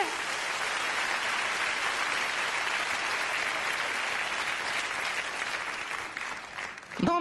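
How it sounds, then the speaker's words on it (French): Sustained applause from a cabaret audience fills the room with dense, steady clapping, easing slightly near the end before a brief swell. "Ils applaudissent ça, quand même, hein."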